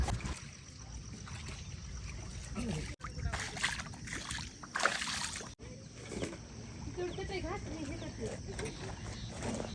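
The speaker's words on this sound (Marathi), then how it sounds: "तुम्हाला नदीचं वातावरण दाखवतो" Village riverside ambience where quilts are being taken to wash in the river, with trickling and splashing water throughout and people talking over it at a moderate distance.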